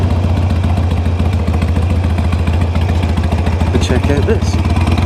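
Motorcycle engine idling and chugging at low speed nearby, a steady rhythmic thump while it rolls through bollards to park on hard standing, with a voice talking over it.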